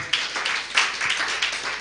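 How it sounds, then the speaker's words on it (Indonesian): A church congregation claps together in a fairly even rhythm, a lively spread of handclaps with a few louder accents, close and without speech. "Ayo tepuk tangan bagi Tuhan."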